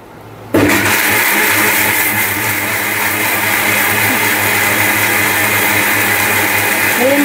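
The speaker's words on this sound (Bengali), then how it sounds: "ব্লেন্ডার করে নিবে," A kitchen blender grinding corn kicks on abruptly after a brief quiet and then whirs loud and steady with a high motor whine and gritty churning.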